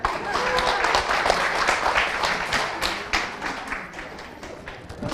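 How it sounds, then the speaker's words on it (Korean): Audience applause breaking out at a Korean company presentation after a prize is handed out, a dense, steady patter of clapping from a room of people with some murmuring mixed in, fading slightly toward the end. "박수 한번 주세요"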